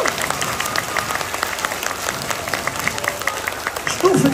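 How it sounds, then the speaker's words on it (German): A large concert audience at a heavy metal show in Leipzig claps as loudly as it can, a dense, steady roar of applause with scattered shouts mixed in throughout. "Stufe 1 ist bei uns immer so laut klatschen,"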